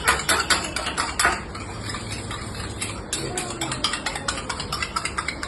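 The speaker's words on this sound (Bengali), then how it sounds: "এখন আমি এর ভিতর একটা ডিম ফাটিয়ে, ডিমটাকে আমি এখন ফাটিয়ে" Egg being cracked into a bowl of cornflour and biscuit crumbs for coating pangas fish, sharp taps and clinks of shell against the bowl rim in quick succession, then soft wet handling.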